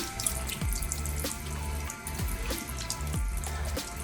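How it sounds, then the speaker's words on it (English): Tap water runs steadily into a sink while a soapy face is rinsed, with splashing handfuls giving a loose rhythm of surges over the continuous flow, close and fairly loud with no talk. "I rinse."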